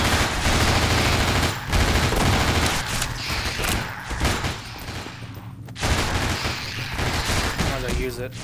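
SMG fire in the video game Nightmare House 2, long sustained bursts of rapid loud gunfire that fill most of the stretch, pausing briefly before resuming, under occasional talk.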